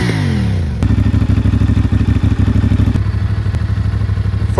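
A CFMOTO 450SR sport bike engine drones steadily while riding at speed, a loud, even mid-pitched thrum with a slight clattering pulse and a gear change partway through.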